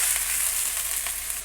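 Garlic and thin pork slices stir-frying in hot oil, a steady close crackling sizzle with bright spitting hiss that holds continuously throughout, no voices.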